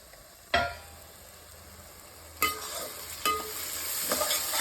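Onions stirred while frying in a pan for a restaurant-style mutton gravy: a steady sizzle broken by three sharp scraping strokes, close and alone.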